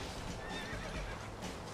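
A horse neighs in the Red Dead Redemption: Undead Nightmare video game, a high whinny standing out over a busy, steady bed of game noise and hoofbeats.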